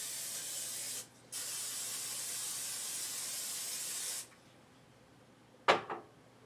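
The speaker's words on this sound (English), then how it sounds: "Then I'm going to spray my cooking dish" Cooking spray hisses onto a baking dish in two long, steady bursts with a short gap between, followed by a quiet spell and a brief clunk of the can being set down.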